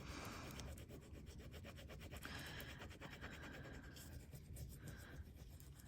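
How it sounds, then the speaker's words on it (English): Metal tape being burnished by hand, a faint steady rubbing and scraping that runs continuously in short repeated strokes, with no talking. "and then you burnish it"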